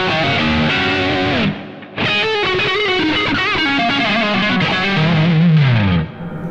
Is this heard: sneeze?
no